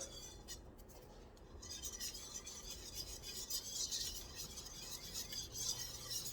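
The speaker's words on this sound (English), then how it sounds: "I'm going to get a half a cup of flour, and I'm going to put this in and make a roux." A spoon stirs half a cup of flour into melted butter in a pot to make a roux for clam chowder, giving a continuous soft scraping and swishing that rises slightly and keeps going.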